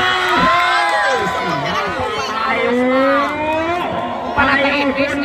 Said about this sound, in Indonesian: Tepuk tangan untuk kedua tim.